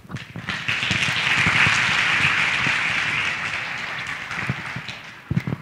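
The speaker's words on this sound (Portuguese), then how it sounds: "Por favor, um aplauso a ela." Audience at a youth congress welcoming someone speaker with applause: a full, sustained wave of clapping that swells quickly, holds steady for several seconds, then fades toward the end with a few louder claps.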